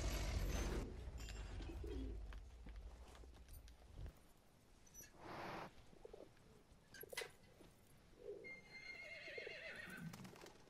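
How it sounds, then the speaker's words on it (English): A horse neighs and whinnies in the First World War game WWI Hero Hunt, with hoof clip-clops and cooing birds in the outdoor ambience. The sounds come in scattered bursts, some louder and some faint. "Oh, a horse."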